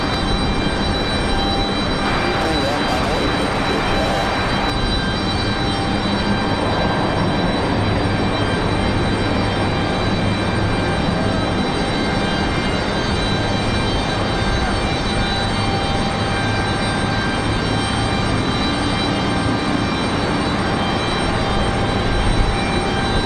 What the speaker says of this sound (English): Lockheed Martin KC-130J Hercules.